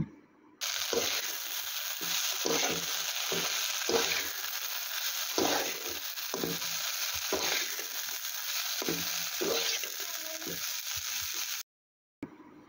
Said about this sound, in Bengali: ঢাকনা উঠিয়ে আরও কিছুক্ষণ ভেজে নেব।